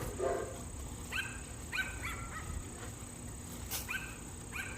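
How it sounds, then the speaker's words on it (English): A dog barks in a series of short, sharp yaps at a moderate distance in a garden during a potato harvest from grow bags, with quiet background ambience between barks. "My dog is barking."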